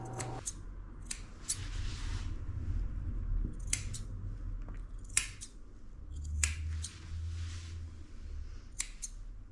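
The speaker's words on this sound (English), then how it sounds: "He's getting his eyes trimmed up so he can see again." Scissors snip repeatedly around a Shih Tzu's eyes during a short pet grooming haircut, crisp close cuts arriving in irregular bursts over a low background hum, with no talking.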